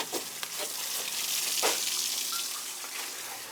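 A sump pump discharges water out of a hose in a steady, rushing gush that continues throughout, with a few small splashes and clicks close by.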